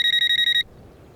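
A mobile phone rings in a quick pulsing electronic pattern, seven short bursts, clear and close, then cuts off abruptly into quiet room tone.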